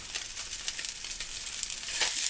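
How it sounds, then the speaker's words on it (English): Tilapia fillets sizzle and fry in a hot pan, a steady close hiss with faint crackles that swells slightly toward the end, with no talking. "Sizzle, sizzle."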